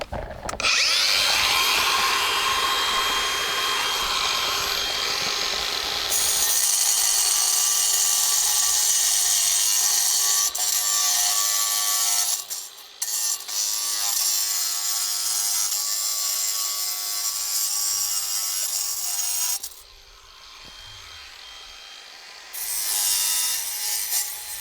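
A power tool cuts and trims garden railroad stone tunnel portal pieces, with a loud, continuous high whine and grinding near the tool, its pitch and load shifting, and brief pauses before it starts again.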